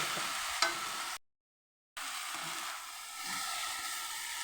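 Greens with salt and turmeric being stirred and fried in a pan, a continuous soft sizzling hiss with scraping stirs, briefly cut to silence midway before resuming.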